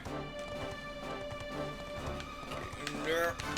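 A horse gallops in the Dragon Quest XI video game with quick, rhythmic hoofbeats, faint and mixed with game music and sound effects while a player talks over it.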